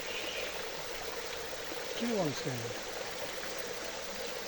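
Spring water flowing down in a city garden in Khanabad, a steady, close rushing wash that fills the whole stretch, with a brief voice speaking over it partway through.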